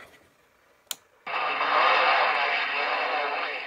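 A repaired Uniden Pro 510 CB radio is switched on with a sharp click, followed after a brief pause by a loud, steady wash of receiver static hiss that continues to the end.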